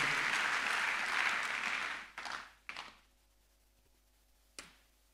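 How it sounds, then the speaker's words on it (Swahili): A church congregation claps and cheers during worship, a loud wash of applause that cuts off after about two seconds, followed by a few scattered single claps and quieter room tone. "Pigie Bwana makofi mengi ya shangwe."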